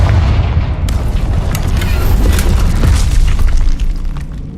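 A Confringo blasting spell from Hogwarts Legacy erupts in a loud, sustained explosive roar with dense crackling debris that keeps rumbling for several seconds.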